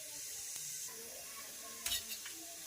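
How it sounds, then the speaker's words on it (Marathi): Hot oil with cumin seeds sizzles steadily as onion and tomato go into the pan for pea rice, a constant frying hiss with a brief louder spatter and clatter near the end. "जिरे घातल्यानंतर आपण इथं घालणार आहोत सर्वप्रथम कांदा आणि टोमॅटो"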